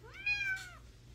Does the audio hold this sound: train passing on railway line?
no